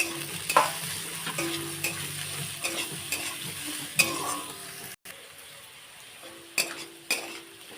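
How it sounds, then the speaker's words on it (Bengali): Chopped carrots, beans, chillies and other vegetables stir-fried in a pan, a steady sizzle with repeated scraping strokes of a spatula and the odd metal clink, close and fairly loud, no talking. "গাজর কেটে রাখা ছোটো ছোটো করে লঙ্কা সব সবজিগুলো দিয়ে একটু ভেজে নেব"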